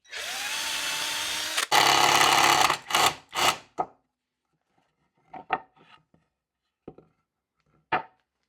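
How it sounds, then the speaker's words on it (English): A drill's loud, sustained power-tool whine boring holes in steel for a few seconds, then a burst of grinding and clattering, followed by scattered short metallic taps and knocks. "Like before, I'll go ahead and drill these out."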